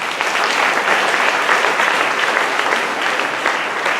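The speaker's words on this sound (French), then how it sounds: "Applaudis le Seigneur." A church congregation applauds during a French-language worship service, dense steady clapping from many hands filling the room at an even level throughout, with no voices rising above it.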